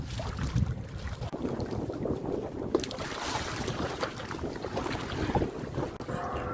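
Homemade PVC pipe kayak moving over rough, wind-whipped water, with steady broadband wind buffeting the microphone and continuous close sloshing and slapping of small waves against the hull; no talking.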